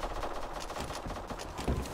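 Sniper rifle fire in the online shooter Black Squad, heard faintly amid a busy, noisy game mix with scattered shots, one sharper report near the end.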